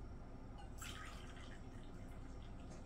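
Hot water poured into a cup for gelatin, a short, soft splashing pour near the middle over a steady noisy background.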